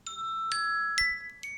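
A phone alarm plays bright, bell-like chime tones, four clear dings in quick succession, each ringing briefly before the next, alone and close.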